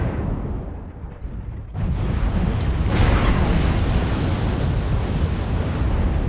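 Missiles detonate in MechWarrior Online, a heavy rumbling blast swelling after a brief lull into a sustained, loud roar of overlapping explosions.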